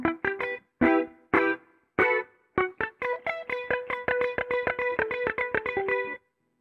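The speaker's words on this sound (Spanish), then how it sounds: "Y aquí tenemos una muy buena base de un reverb y de un chorus." Electric guitar through a Line 6 Pod Go set with reverb and chorus, playing bachata-style picked notes: a few short chord stabs, then a steady run of quick plucked notes with a shimmering, ringing tail, loud and alone.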